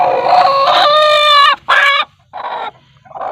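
A hen gives a few loud, close clucks and squawks in short bursts with brief gaps between them, alone with no talk.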